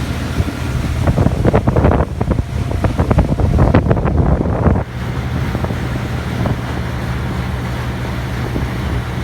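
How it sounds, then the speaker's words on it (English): Wind buffets the microphone during a sunset boat ride in Maine, a loud, continuous rushing roar that gusts harder early on before settling to a steadier blow. "Sorry if there's some wind."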